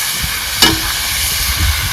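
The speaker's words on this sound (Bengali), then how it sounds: "বন্ধুরা এখন আমরা কষাবো মাংসটাকে।" Pork is stir-fried in a pan while cooking at an outdoor picnic, with a steady close sizzle and hiss and a brief louder scrape of stirring partway through, and no voices.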